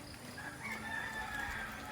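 A rooster crows from a short distance away in a village in the Philippines, one drawn-out call over steady outdoor background noise.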